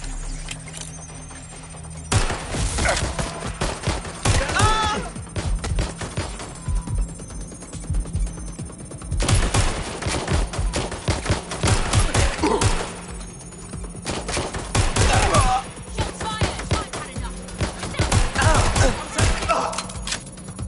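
Video-game gunfire crackles in repeated bursts and volleys across the whole stretch, loud and close, with heavy thuds mixed in and brief quieter gaps between salvos.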